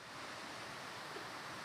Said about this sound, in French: me voici aux cascades de Babory, à Saillant